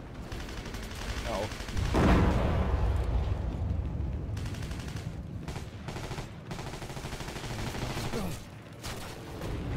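Sustained automatic gunfire sprays in rapid bursts in the online war shooter Heroes & Generals, loud and close, with heavy blasts and a brief spoken remark over the shooting.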